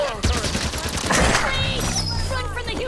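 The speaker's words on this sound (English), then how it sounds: "I feel like this plasma rifle is worse." Plasma rifle firing in the video game Halo 5: Guardians, a quick volley of bright zapping shots mixed with game effects and a voice, loud and close over about three seconds.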